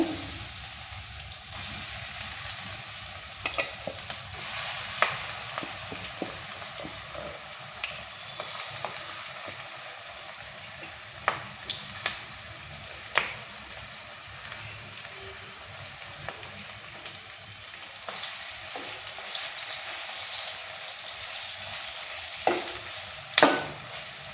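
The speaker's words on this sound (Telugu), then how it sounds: "ఇప్పుడు దొండకాయ ముక్కలు వేసేద్దామండి ఇదే నూనెలో" Ivy gourd pieces frying in hot oil, a continuous close crackling sizzle with occasional scraping stirs and soft ticks throughout.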